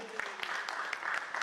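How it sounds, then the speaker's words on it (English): Brief burst of applause in a conference hall at an agri and commodity business summit, a fairly close crowd clapping steadily with a few sharper individual claps standing out, with a voice briefly audible early on. "Can we have a round of applause, ladies and gentlemen?"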